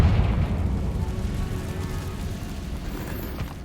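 A Confringo blasting spell in Hogwarts Legacy explodes with a deep rumbling boom that slowly decays, loud and low without any talking.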